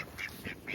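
Ducks by the shore at Old Shoremore quack three times in quick succession, faint and somewhat distant, with no voices.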